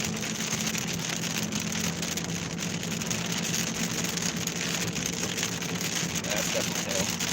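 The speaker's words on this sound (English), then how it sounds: "That's definitely hail." Hail falling during a storm while storm chasing in southern Iowa: a steady, dense patter and clatter that runs unbroken and fairly loud through the whole stretch, with a low rumble beneath it.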